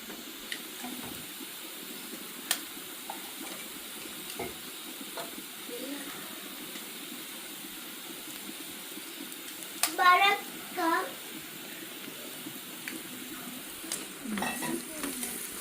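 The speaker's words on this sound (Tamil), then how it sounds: "நாங்கள் முட்டையை வந்து அடித்து ஊற்றுவோம்" Beaten eggs are poured into hot oil in a pan and fry with a soft, steady sizzle, faint and close, while a voice speaks briefly now and then.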